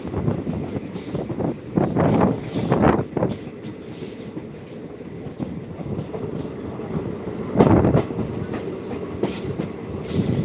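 Train pulling out of an Indian railway station between Bajpatti and Muzaffarpur, crossing over to another line, with a rumbling rolling sound, bursts of wheel squeal and clanks over the points.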